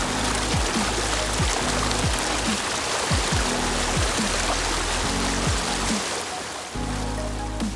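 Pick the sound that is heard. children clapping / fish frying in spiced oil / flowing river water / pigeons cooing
flowing river water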